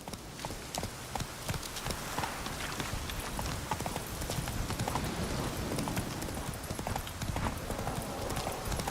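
Roach the horse trots along in The Witcher 3, a steady run of clip-clop hoofbeats continuing without a break over a busy game soundscape, close and fairly loud throughout.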